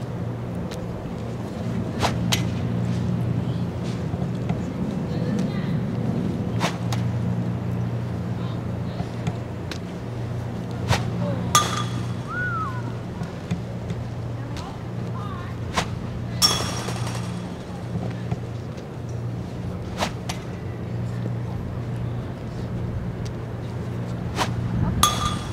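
Lacrosse shots ripped at the goal during shooting practice: a few sharp cracks and clanging hits spaced across the clip, standing out over a steady low hum and background noise.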